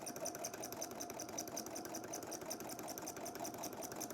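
A sewing machine stitches a fabric caddy organizer, a fast, even mechanical whir and needle patter running continuously at a soft, close level.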